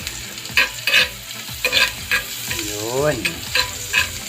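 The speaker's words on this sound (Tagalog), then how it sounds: "Yan, sizzling na night fish." Knife fish sisig with white onion sizzles loudly in a hot pan while being stirred, with rhythmic spatula scrapes and crackling bursts; a short spoken word is heard.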